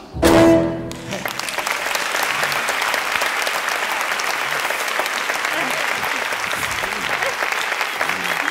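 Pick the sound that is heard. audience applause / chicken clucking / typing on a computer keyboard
audience applause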